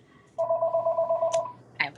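A landline home telephone rings in a quick double-burst pattern, loud and close, its electronic warble repeating steadily for about a second before cutting off, with a soft voice breaking in at the very end.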